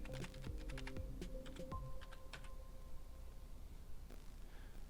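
Someone types on a computer keyboard while entering login credentials into PC software, producing a quick run of close, crisp key clicks that thin out into a few isolated taps over steady background hum.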